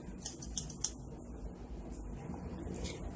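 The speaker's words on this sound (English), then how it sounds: "So now all you have to do is cut that sucker out." Scissors cutting fabric for fursuit handpaws, three crisp close snips in quick succession followed by quieter rustling of the cloth against a low room hum.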